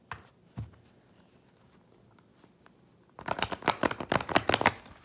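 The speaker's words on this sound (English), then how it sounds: "The cards are shuffling pretty easy." Quiet rustling gives way to a burst of rapid, crisp tarot card shuffling, riffling loudly and close up for the last couple of seconds.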